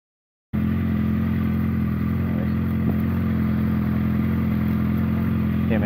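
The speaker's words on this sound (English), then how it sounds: "Big Harley Davidson lump." A big Harley-Davidson motorcycle engine rumbles loud and close on a road trip in France, starting abruptly after a moment of silence and then holding a steady, deep, throbbing idle with a slight clatter, alone without talk.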